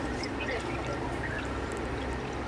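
Water poured steadily over raw mangoes as they are washed, a continuous close splashing and trickling with no break.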